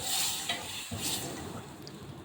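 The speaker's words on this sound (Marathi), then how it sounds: "नंतर राई टाकली राई तडतडल्यावर जिरं टाकलं आणि मग वरतून हळद टाकली छान परतून घेतलं" Mustard seeds, cumin and turmeric sizzling in hot oil for a tempering, a continuous crackling hiss heard close up without talk.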